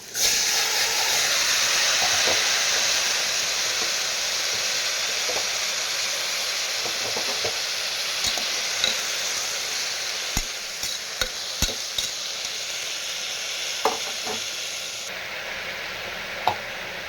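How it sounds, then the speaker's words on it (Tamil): Brinjal and potato are sautéed in a hot pan: a loud burst of sizzling as they go in settles into a steady hiss, punctuated by sharp scraping clicks of a spoon stirring. "இப்போ அந்த கத்திரிக்காய் உருளைக்கிழங்கு போட்டு ஒரு வதக்கி"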